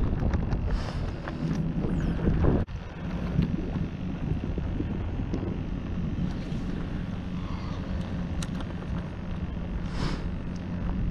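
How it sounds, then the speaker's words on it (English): Steady wind over open water on Offatts Bayou in Galveston, a constant broad rumbling roar with gusty buffeting on the microphone, loud and unbroken throughout. "Wind picked up quite a bit out there in the open"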